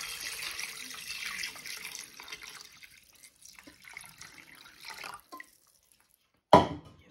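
Water is poured into a cooking pot holding whole spices, about 1.5 litres for chicken corn soup. A soft, steady stream runs for a few seconds, trickles and thins, then stops with a short clatter at the end.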